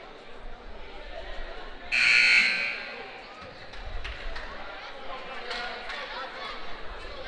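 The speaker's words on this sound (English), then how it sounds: "First buzzer there." Buzzer at a high school girls' basketball game, one loud electronic blare lasting over a second during a timeout, set against gym chatter, sneaker squeaks and distant voices.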